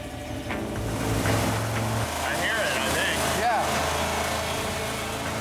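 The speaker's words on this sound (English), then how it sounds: "That penny is taking a pounding, but the engine's still running." A small engine runs steadily with a penny lodged in its carburetor, a continuous loud drone with a faint whining tone partway through, while people talk over it.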